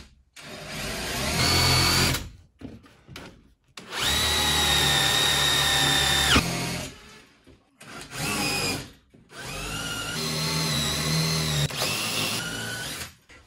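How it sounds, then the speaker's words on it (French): Power drill boring into a wall to set a molly anchor, three loud bursts of steady whining rotation separated by short pauses, close by. "je vais percer, mettre ma cheville mollie"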